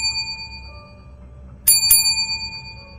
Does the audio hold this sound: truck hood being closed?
no